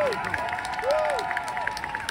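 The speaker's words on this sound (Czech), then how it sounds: "Ještě tleskejte, čas na to je" Audience applause from a crowd on Wenceslas Square in Prague at an outdoor concert event, steady clapping spread across the whole moment, with a faint voice and sustained tones over it.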